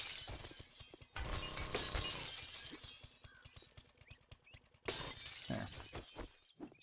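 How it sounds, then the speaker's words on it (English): Glass shattering as an auger breaks through panes in the video game 7 Days to Die, two bursts of crashing breakage, each trailing off into a scatter of tinkling shards. "the auger was significantly faster at breaking all of this glass than the pickaxe would have been"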